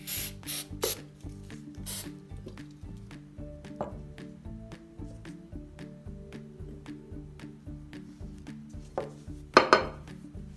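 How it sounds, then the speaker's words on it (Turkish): Spray adhesive from an aerosol can hisses in a few short bursts while a handmade New Year candle holder is assembled, with steady music playing underneath throughout. "Sonrasında sprey yapıştırıcımızı koyuyorum."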